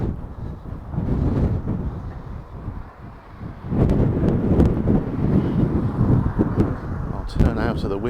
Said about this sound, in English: coming into the wind on Avenida Central.